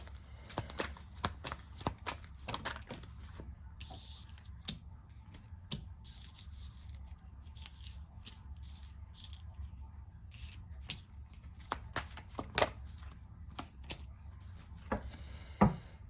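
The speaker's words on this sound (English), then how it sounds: "Let's get more cards." Tarot cards being shuffled by hand, with rapid riffling and soft slapping in irregular bursts, quiet and close, with no talking.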